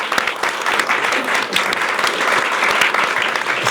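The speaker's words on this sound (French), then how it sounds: "Donc Stella Kamga, on peut l'applaudir." A studio audience applauds guest Stella Kamga on a talk show, with dense, lively clapping from a fair-sized crowd, steady and fairly close, lasting a few seconds with no voices over it.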